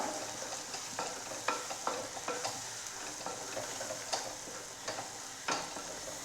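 Masala of chilli powder and spices being stirred in a frying pan for an egg and potato dish, a soft continuous sizzle broken by repeated scraping strokes of the spoon at an uneven rhythm, close and fairly quiet with no talking.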